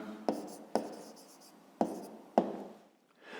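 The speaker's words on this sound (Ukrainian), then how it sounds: "а тепер записуємо відповідь" A pen writes an answer by hand, giving four sharp taps as strokes begin, each followed by a soft scratching drag across paper. Close and fairly quiet, with no speech.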